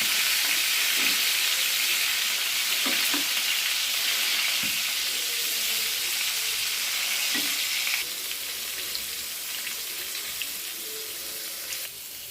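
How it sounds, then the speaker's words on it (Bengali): Pointed gourd sizzles steadily in hot oil, a constant bright hiss with an occasional soft clink, quieting slightly toward the end. "আমি পটলটা ভালো করে ভেজে নিচ্ছি।"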